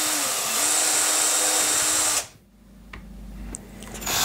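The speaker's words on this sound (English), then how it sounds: "getting the drill to make the holes" A power drill runs steadily and loudly while boring holes in an electronics relay box, then cuts out abruptly, leaving a few faint clicks and a low hum.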